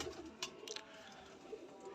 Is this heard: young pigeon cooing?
yes